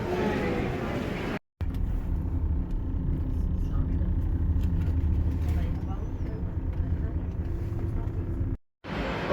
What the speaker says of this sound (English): This is the one we're going on, the Edinburgh Airport bus